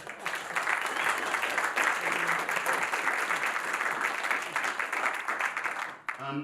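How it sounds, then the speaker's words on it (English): Sustained applause from a crowd at a campaign launch, dense and steady for several seconds before cutting off abruptly near the end. "I think he deserves a round of applause"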